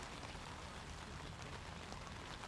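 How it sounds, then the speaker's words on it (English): Light, steady rain falls at an outdoor softball game, a continuous even hiss of drops with no distinct events, moderately quiet throughout. "the rain it hasn't stopped. It's still pretty light, but it's just consistent."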